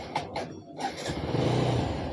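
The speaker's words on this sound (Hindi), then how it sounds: "अभी हम बाइक को जैसा स्टार्ट करते हैं" A TVS Apache RTR 160 BS6 motorcycle engine cranks and catches, settling into a steady close idle rumble with a brief rise as it fires up.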